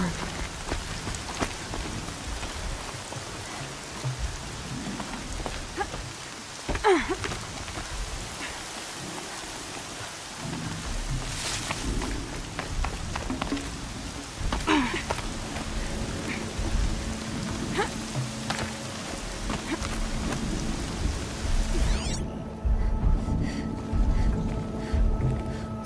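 Heavy rain pours steadily across a thunderstorm in the Horizon Zero Dawn video game, with rolling thunder swelling underneath and occasional sharper crackles, continuous and enveloping throughout.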